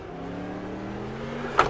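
A car engine on a race track holds a steady, moderately loud drone as the driver eases onto the throttle, with a sharp knock or thump near the end.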